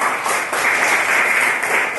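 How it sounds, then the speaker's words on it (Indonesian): Classroom applause for a student: a steady two-second burst of many hands clapping together, dense and close, with no pauses. "tepuk tangan untuk April."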